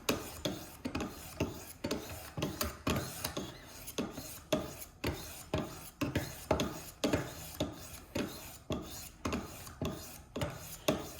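Steady back-and-forth rasping strokes of a knife edge drawn across Wicked Edge Go sharpening stones, roughly two strokes per second, close and clear, with no talking.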